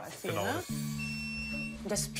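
An electromagnetic field meter beeps with a steady electronic tone and harmonic buzz for over a second, bracketed by brief voices before and after.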